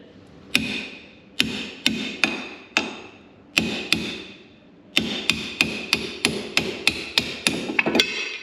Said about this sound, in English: we got an actual hammer this time and a larger punch, and we're gonna send it